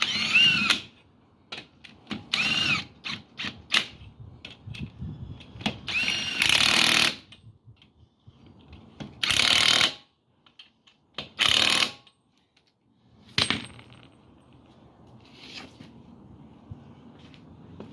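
A power tool tightens wheel lug nuts on a white Tahoe during an axle swap, with several short, loud bursts separated by pauses and faint ratcheting and mechanical clicks in between.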